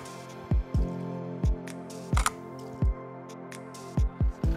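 Sharp mechanical clicks of a camera shutter fire in an irregular series of about a dozen, close and crisp against a quiet background in an Australian rainforest.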